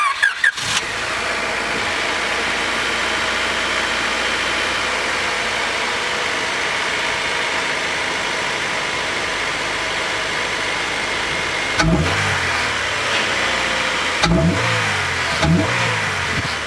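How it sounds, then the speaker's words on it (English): Cold start of a 1999 Honda Civic with a D16Y8 engine and cold air intake: the starter catches and the engine settles into a steady, close, loud idle, followed by a few sharp revs near the end. "I'll give you a legit cold start."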